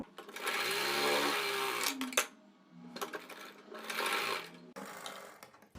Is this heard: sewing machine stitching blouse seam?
yes